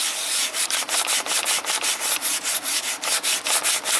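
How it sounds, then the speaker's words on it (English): A small engine cylinder head is lapped flat by hand, scraping across an abrasive surface in quick, even back-and-forth strokes, about four per second, close and steady. "See a high spot, that's why I'm decking the head."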